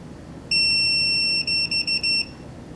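A steady high-pitched electronic beep from a multimeter continuity test sounds for about a second, then breaks into several short stuttering beeps before stopping, close and loud, with no talking.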